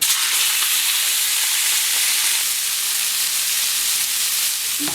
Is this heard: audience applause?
no